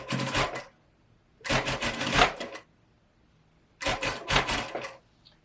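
A sewing machine stitches the collar of a Viola top in three separate bursts of rapid, close mechanical whirring, each lasting about a second, with quiet pauses between them.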